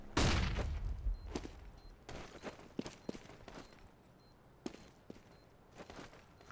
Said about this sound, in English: There's the frag onto Stavy.